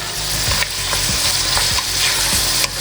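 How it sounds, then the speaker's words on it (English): Onion and garlic sauté in melted butter for Lebanese hashweh rice stuffing, a loud, close, continuous sizzle with regular scraping strokes of a spoon stirring through the pan. "we're gonna add the onion and the garlic, and we're gonna saute them a little bit"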